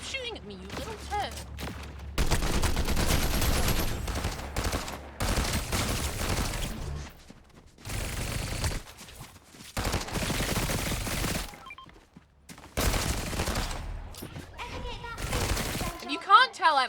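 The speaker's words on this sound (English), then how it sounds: "Would you stop shooting at me, you little turd?" Rapid gunfire in Overwatch, several loud bursts of automatic shooting separated by short pauses, close and dominant, with someone speaking in between.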